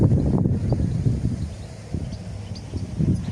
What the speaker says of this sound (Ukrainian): дивіться, як він колише вітер